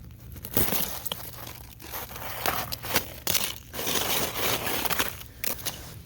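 A crust of ice over a winter garden bed is crushed and broken up close by in an irregular series of crunching, crackling bursts, fairly quiet overall with no voices.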